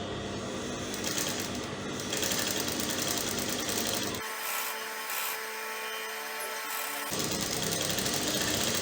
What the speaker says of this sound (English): I'm just tapping, giving it a very gentle tap.